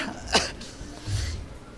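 A single sharp cough, fairly close, followed by a quieter breathy sound in a dim room.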